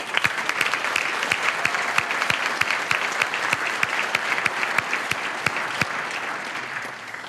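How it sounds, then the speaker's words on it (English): A room of people applauds at a conference center grand opening, a steady wash of clapping with sharp, distinct nearby claps standing out in a regular rhythm for about seven seconds, tapering slightly at the end. "And I'd like to give them a round of applause."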